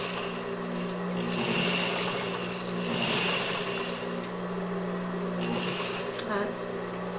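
Sewing machine stitching a fabric face mask, short bursts of rapid needle chatter backstitching to lock the seam, close and steady over a low hum.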